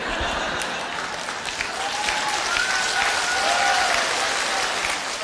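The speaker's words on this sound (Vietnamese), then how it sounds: "tôi thấy các quý ông vỗ tay rất là lớn và cười rất là thích thú" A live music show audience claps loudly and steadily throughout, dense continuous applause with scattered laughter mixed in.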